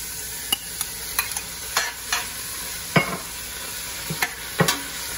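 Minced garlic and poblano pepper strips stirred in a hot pan, a soft steady sizzle broken by about a dozen scraping strokes of the spoon at uneven intervals, close and alone without talk.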